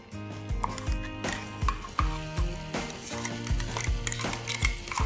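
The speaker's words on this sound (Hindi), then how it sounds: "ऑलरेडी तेल हमने डाला हुआ है, इसमें ही थोड़ा सा जीरा ऐड करेंगे। इसके अंदर चटनी ऐड करेंगे।" Garlic chutney with cumin fries in oil while a spoon scrapes and stirs it in a pan, giving a rhythmic series of knocks and scrapes over a light sizzle, close and fairly loud.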